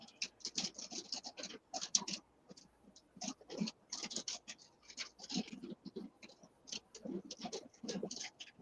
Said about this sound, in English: You might be hearing the rain hit the windshield.